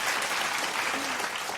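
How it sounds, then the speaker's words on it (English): Studio audience applauding for a guest, a short burst of dense, even clapping from many hands, steady and fairly loud for its whole length. "It sounds like they're clapping the exact same way every time."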